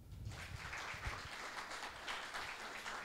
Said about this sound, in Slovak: privítajte potleskom Karin Majtánovú